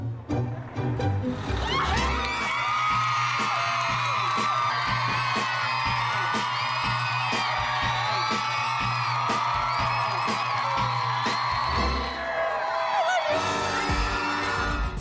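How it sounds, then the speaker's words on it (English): A big crowd cheers, whoops and shouts in welcome at a home makeover reveal, a loud, sustained roar of many voices with high whistling whoops running continuously, swelling and then easing near the end. "a nice big crowd gave me a nice welcome"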